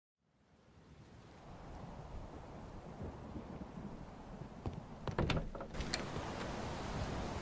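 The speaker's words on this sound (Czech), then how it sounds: "Zase prší." Steady rain hisses and rises in, with a faint low rumble of thunder underneath and a few sharp knocks or clatters partway through, heard at a distance.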